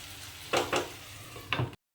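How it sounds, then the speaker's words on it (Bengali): Kachur lati with prawns is stirred in a hot pan, giving a steady low sizzle with three short scraping stirs close by, and nobody talks. "সবটা কষতে থাকব এবং ঢাকা দিয়ে দিয়ে কষবো"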